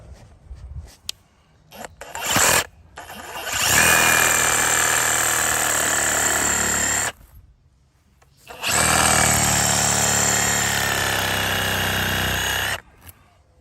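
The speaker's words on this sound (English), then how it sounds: "We'll go after this with a reciprocating saw." Reciprocating saw cutting through a tree root buried in lawn dirt, loud steady buzzing in two long bursts separated by a short pause, with brief starts and clanks beforehand.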